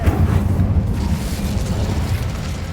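Incendio fire spell cast in Hogwarts Legacy, a loud close whooshing burst of flame that holds as a dense low rumbling roar for a few seconds, with no talk.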